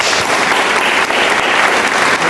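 Steady, dense applause from a podcast studio audience of students, filling the whole stretch at an even, loud level with no pauses.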